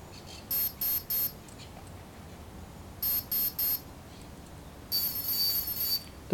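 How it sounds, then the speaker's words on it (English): An Align Trex 500 BEC helicopter speed controller emits setup beeps: two groups of three short high beeps, then one longer continuous tone, clear against a quiet room. "So once you hear the three beeps start, set that to the low position."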